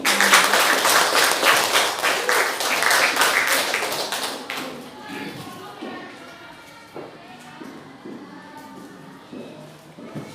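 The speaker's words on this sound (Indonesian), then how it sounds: "Kasih tepuk tangan." Students clapping in a classroom during a civics lesson, a dense burst of hand claps for the first four seconds that thins out and fades, with faint voices and shuffling continuing afterward.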